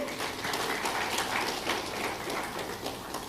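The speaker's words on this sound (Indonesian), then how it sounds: "boleh nggak kasih tepuk tangan buat anak-anak kita dulu?" An audience claps at a church talk, a dense, steady patter of many hands that continues evenly throughout without voices.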